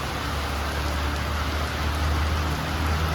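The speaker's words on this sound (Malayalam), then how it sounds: "അപ്പോൾ നല്ല മഴ പെയ്യാൻ തുടങ്ങി കേട്ടോ" Heavy rain pours down in a dense, steady hiss with a low rumble beneath, unbroken throughout and with no voices.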